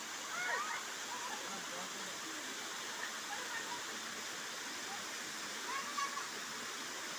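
A waterfall near a village, fed from the hills and falling in a modest stream, gives a steady, close, full-bodied rush of water that holds evenly throughout with only slight surges.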